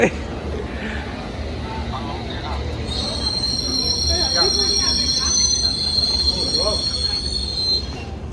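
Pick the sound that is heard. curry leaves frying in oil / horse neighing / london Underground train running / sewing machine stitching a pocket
london Underground train running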